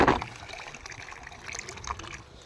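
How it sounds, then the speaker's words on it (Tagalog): Water runs into a goats' drinking container on a farm, a soft trickling and splashing fill after an initial louder gush, faint and close, with no talk. "Akto, papuno na yung tubig oh."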